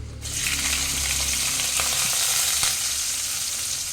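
Oil sizzles and crackles steadily after a sudden start as clove and cinnamon fry, with occasional small pops, close and continuous, no voices.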